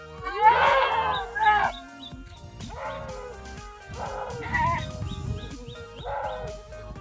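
Several drawn-out, wavering bleats in separate bursts, loudest at the start, with quieter bleats following over a low background rumble.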